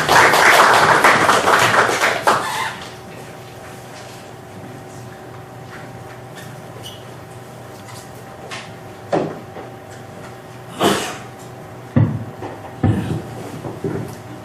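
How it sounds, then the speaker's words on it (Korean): An audience at an academic lecture on an atopy convergence network claps to welcome the next speaker. The applause is loud and dense for about two seconds, then cuts off into a quiet room with a few scattered taps. "박수로 맡겠습니다."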